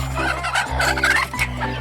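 Hens cluck continuously around egg-laying boxes, several birds overlapping at moderate volume over a low steady hum.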